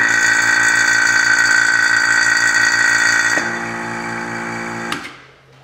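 A homemade milking machine's vacuum pump runs during a pressure test with a steady, droning motor whine. The pitch and loudness drop partway through, then the pump winds down and cuts off near the end, with no talking.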